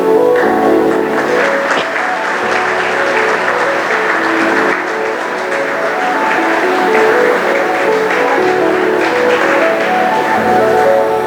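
Students at a college felicitation ceremony applaud steadily, a dense, loud and continuous wash of clapping from a large crowd in a hall that holds without pause throughout.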